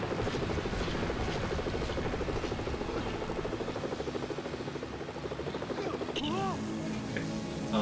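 Rhythmic thudding rotor chop of a helicopter in the video game Lego Batman 2: DC Super Heroes, steady and prominent for several seconds, with a few game effects near the end.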